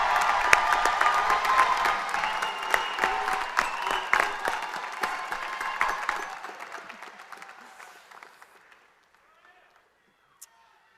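Graduates at a university fall commencement ceremony clap and cheer for their families, a loud crowd ovation with scattered voices that gradually thins and fades into near silence, leaving one last isolated clap.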